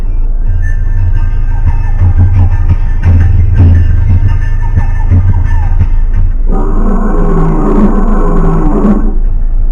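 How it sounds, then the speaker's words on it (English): A lion roaring at a safari park, heard over the steady rumble of a car interior, with a series of deep, loud roars building toward a strong, rich final roar. "Heard up to 5 miles away, the lion's roar is an awesome sound and is used to communicate territorial boundaries to other nearby"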